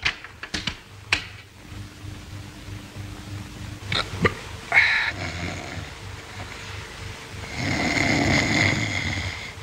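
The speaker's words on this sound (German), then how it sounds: "Mensch, schnarch nicht so" A man snores in a 1931 black-and-white film, slow rasping breaths that rise to a louder, rougher snore near the end, with clicks and soft noises scattered through the scene and no talk.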